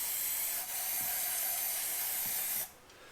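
Aerosol brake cleaner sprays into the engine of a barn-find Gilbern Invader Mk3 in one long, loud, close hiss with a brief break near the start, then cuts off sharply.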